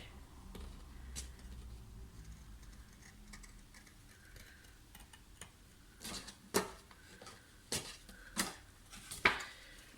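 Excess paper is trimmed from a scrapbooking card base in a quiet room, with a few crisp, separate snips and clicks close by in the later seconds.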